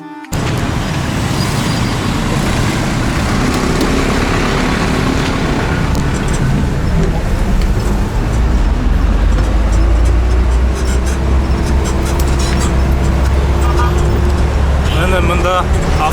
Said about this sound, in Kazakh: Өте ескі автобус осындай.